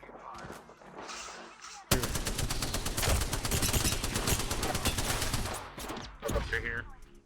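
Rapid sustained gunfire in a video game shooter, dense automatic bursts that start abruptly and hammer on loud and close for several seconds before breaking off into scattered shots.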